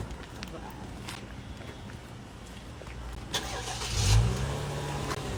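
A Cadillac's engine fires up with a push-button start: after a few clicks and rustles inside the car, it cranks and catches into a brief rev before settling, heard close.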